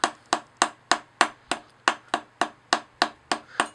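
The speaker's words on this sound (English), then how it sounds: "This is a pretty crappy old hammer, but it works." An old, worn hammer, its rubber end long gone, taps an Isky O-ring tool into a Mitsubishi 4G63 engine block in a steady run of about a dozen sharp, close metallic strikes at a regular quick rhythm, with no talking.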